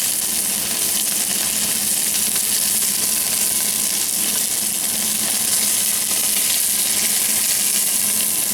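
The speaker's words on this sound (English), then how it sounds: "I'll just wash this tray out for a sec, just to put it back in." Tap water runs steadily while a tray is washed out in a kitchen sink, making a loud, dense, continuous hiss and splash with no pauses or voices.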